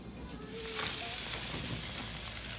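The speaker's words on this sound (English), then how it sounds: "All right, first up, grilling out the T-bone steaks." T-bone steaks hit the grill and burst into a loud, steady sizzle that starts abruptly and then holds as a bright, crackling hiss close up, with no voices.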